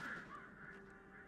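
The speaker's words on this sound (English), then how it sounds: "All the birds." Crows cawing in the video game Alan Wake Remastered, a few harsh caws close up over a steady ambient hum.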